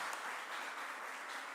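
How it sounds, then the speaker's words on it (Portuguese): A church congregation applauding during a sermon, a faint, steady patter of many hands clapping together, heard from a distance without voices. "Vamos aplaudir o Senhor na vida das meninas"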